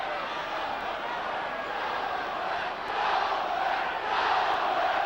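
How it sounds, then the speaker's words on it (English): Football crowd at a Middlesbrough home match in the early 1990s, a steady broad roar of thousands of fans urging on the home team, swelling louder toward the end before a free kick. "Crowd getting behind the home team."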